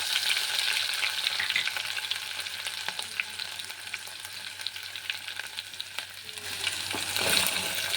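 Garlic-ginger paste hisses in hot oil in a pan already holding fried cumin, mustard seeds and curry leaves, a steady close sizzle with scattered light pops and stirring scrapes throughout, swelling slightly near the end.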